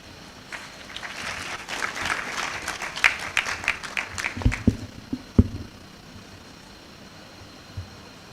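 Applause at a graduation congregation ceremony, a modest round of scattered clapping from the audience that swells, peaks with a few sharper claps, then dies away to a quiet room hum.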